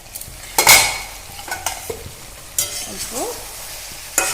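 Mutton kosha stirred in a frying pan: a spoon scrapes and clinks against the pan in a few separate strokes over a low steady sizzle, close up, with a brief word spoken.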